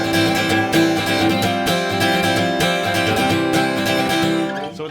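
Acoustic guitar strums the chorus of a song in a steady down-stroke pattern, full and loud with rhythmic accents, and no voice over it.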